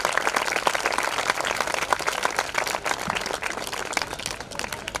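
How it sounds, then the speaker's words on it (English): Audience applause at an international literature festival inauguration in Chandigarh, a dense steady clapping from a crowd that carries on for the whole stretch without letting up. "extra applause is in order"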